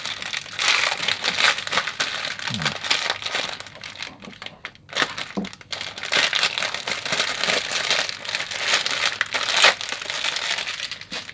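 A padded envelope holding minifigures is cut and pulled open, with continuous loud, close crinkling and crumpling of the packaging and brief pauses between bursts.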